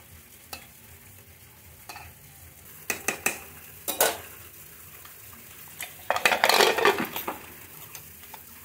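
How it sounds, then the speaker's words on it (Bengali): Potatoes fry with meat in a pan, with scattered stirring scrapes and clinks building to a loud, dense burst of sizzling and scraping near the end, with no voices. "এইখানে আলুগুলো যেহেতু দিয়েছি সেহেতু খুব ভালো করে ভেজে নিয়েছি"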